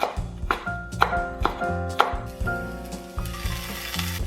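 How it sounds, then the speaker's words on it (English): Soy sauce fried rice being stir-fried in a pan, with steady sizzling and repeated metallic clanks and scrapes of a spatula against the pan, loud and close, with bright ringing tones layered on top. "Stir fry everything for a short while."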